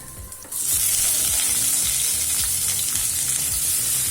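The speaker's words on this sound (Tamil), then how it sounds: "இப்போ நல்லா வதக்கிக்கலாம்." Ridge gourd peel hits hot oil in a pan and bursts into a loud, dense sizzle that holds steady and close, with a faint rhythmic scraping underneath.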